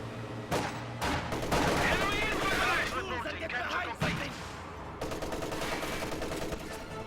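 An MG-34 machine gun fires in Company of Heroes amid repeated battle bursts and rattling gunfire that fill the mix, with a commentator talking over the noise.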